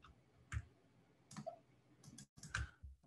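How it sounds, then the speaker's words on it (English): Computer keyboard keystrokes, a handful of separate sharp clicks spaced irregularly across a quiet background, close and fairly soft. "This is all my keyboard right now, so it's kind of hard to demonstrate my keystrokes here"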